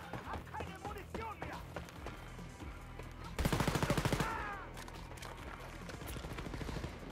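Gunfire in Wolfenstein: Youngblood: a rapid automatic burst rattles out in the middle, louder than the quieter game sounds and voice murmurs around it.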